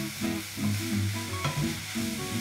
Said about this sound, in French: l'idée ça va être avec la cuillère de casser hein, la viande à l'intérieur de la poêle